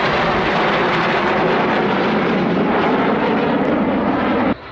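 Red Arrows display jets fly the rollback manoeuvre at an airshow, a loud, continuous close roar of jet engines that holds steady before cutting off abruptly at the end.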